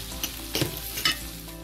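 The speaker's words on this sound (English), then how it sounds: "And then I'm going to stir." A pot of seasoned corned beef with garlic being stirred, soft sizzling under three distinct spoon scrapes spaced across a short moment, close by.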